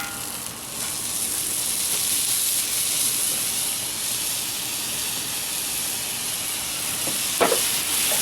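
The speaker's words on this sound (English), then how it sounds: "I'm gonna put them on the grill." Steak on a hot grill giving off a steady, loud sizzle and hiss, continuous and close, with a brief clatter near the end.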